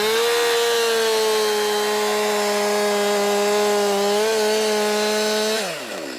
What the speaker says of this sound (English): Now we're going to demonstrate the attack portion and the plunge cut.